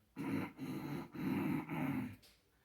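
A person's voice imitates a low, rough growl in a few pulsing bursts, close and fairly quiet, with no other sounds.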